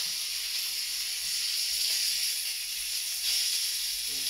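Pork chops sizzle steadily in a pan, a continuous soft hiss of frying that holds an even level throughout, with no voices over it.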